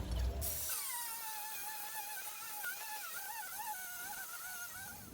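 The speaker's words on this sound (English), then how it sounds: "you used an angle grinder" Angle grinder cutting through a metal window frame, a continuous high whine that holds steady with slight pitch wavers, heard alone and fairly faint after a brief louder burst at the start.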